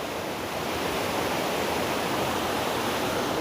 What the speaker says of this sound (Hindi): यहाँ पर बहुत प्यारा झरना दिखने लग गया है